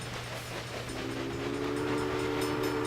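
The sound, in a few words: train passing through, from the video game Railway Empire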